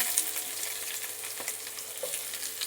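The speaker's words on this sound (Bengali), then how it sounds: "এবার পেঁয়াজটাকে লাল লাল করে ভেজে নেব" Chopped onion frying in oil with bay leaf and dried chilli, a steady close crackling sizzle with faint stirring scrapes throughout.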